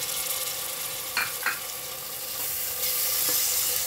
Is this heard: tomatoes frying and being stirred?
yes